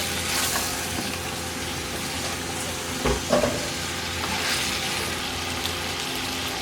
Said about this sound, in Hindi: हमने गोश्त को थोड़ा सा इसमें भून लिया है अच्छे तरीके से।